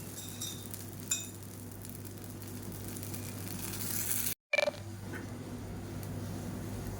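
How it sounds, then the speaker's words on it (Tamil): Thick dosa batter poured as an uthappam sizzles on a hot griddle stone, a steady, even hiss running throughout with a brief clink of a utensil midway. "இப்போ கல் நல்லா காஞ்சிடுச்சு. நல்லா கனமான ஊத்தப்பமாக ஊற்றிக்கலாம்."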